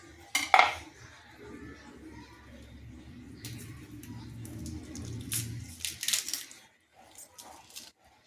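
Fish gills being cut out with a knife for fish fry: a sharp metallic clink at the start, then scraping and squishy cutting noises with a few more clinks near the end, close up, while a voice talks underneath.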